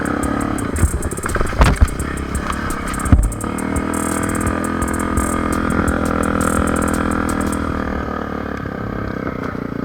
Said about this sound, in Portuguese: Não, não, não. É a moto.